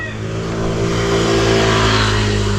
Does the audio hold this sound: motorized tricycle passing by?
yes